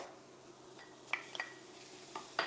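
Sun-dried tomatoes being stirred into a Mediterranean omelette mix in a pan, with a faint low sizzle and a few light metallic clinks and scrapes of the utensil.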